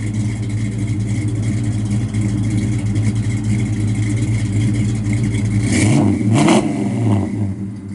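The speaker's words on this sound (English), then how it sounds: "Tough sounding car." A 1957 Chevrolet Bel Air hardtop with a 700R overdrive transmission idles with a steady, deep, lumpy rumble for several seconds, then blips through two quick louder revs near the end. The car is close, with no talking.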